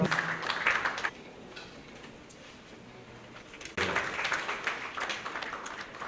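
An audience at a national biosafety agency event gives a round of applause, a broad wash of clapping that dips briefly, then swells again and carries on steadily to the end.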